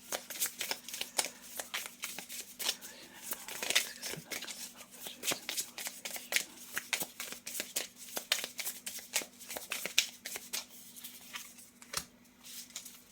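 Tarot cards are handled and laid out in a series of quick, faint papery flicks and slides close by, with a quiet speaking voice at times.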